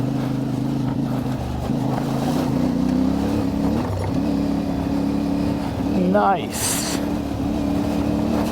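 A CF Moto 450MT motorcycle with KENDA Big Block tyres riding a gravel track, its engine humming steadily close by and rising briefly in a rev, with a rider speaking over it.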